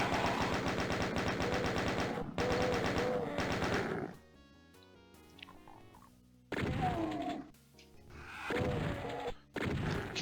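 A chaingun in the video game DOOM fires in two long rapid bursts of close, loud shots, separated by a brief lull filled with softer game effects.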